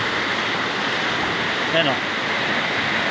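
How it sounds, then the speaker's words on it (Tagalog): Kipot Falls in Montalban, Rizal pours in a constant, loud, broadband roar of falling water, with someone briefly speaking over it. "Yan, falls din yan mga ka-idol."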